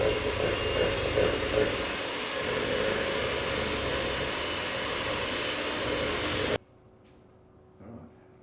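An electric mixer whisks eggs for an Italian chocolate tart, giving a loud, steady motor whir for about six and a half seconds before cutting off abruptly into near silence.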